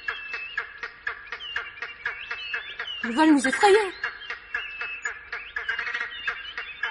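Birds cry out in a rapid, harsh, honking chatter that keeps going throughout, while someone speaks French over the noise.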